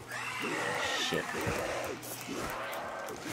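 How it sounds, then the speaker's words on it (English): A video-game zombie approaches with a series of low, wavering growls and moans in a repeating pattern over a steady background hum. "I hear the zombie coming!"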